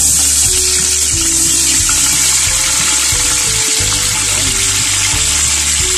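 Chicken feet dropped into a hot pan fry with a steady, loud sizzle and watery crackle, close by and continuous, with a low hum underneath and no talking.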